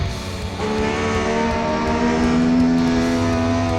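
Racing engines of a 1979 Brabham and a Lotus painted as a Brabham in Assetto Corsa, at the Österreichring during the Austrian Grand Prix, hold a loud, steady high-revving drone that swells slightly as the cars run close together.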